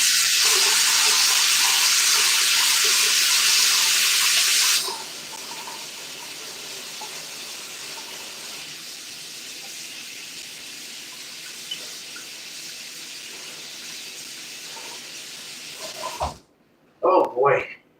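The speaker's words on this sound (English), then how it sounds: "I have to wash my hands." A kitchen tap runs hard into a sink for about five seconds, then quietens to a softer trickle of handwashing that goes on for much of the clip, with brief bumps and a voice near the end.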